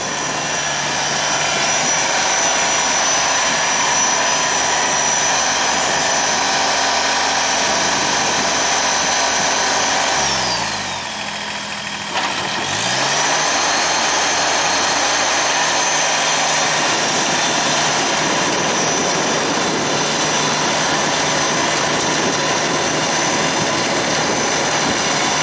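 A subcompact tractor engine and three-point King Kutter rotary tiller drone continuously for a long stretch, briefly dipping and shifting pitch midway before resuming the same steady mechanical roar.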